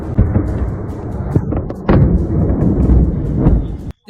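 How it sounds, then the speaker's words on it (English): Heavy, rumbling blasts roll in one after another, with a sharp boom near the middle, loud and continuous before cutting off abruptly. "There's an explosion. Do you hear it?"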